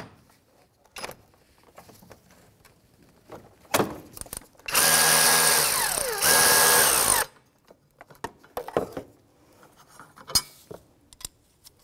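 A power tool with a 15 mm socket spins out an engine mount bolt on a 2001-2007 Volvo V70, a loud buzzing run of about three seconds with a brief pause, framed by clicks and metallic clinks of handling.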